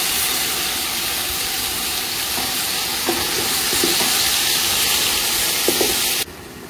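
Ground masala frying in oil for a mutton donne biryani, a loud steady sizzle with occasional stirring scrapes, cutting off abruptly near the end; no voices.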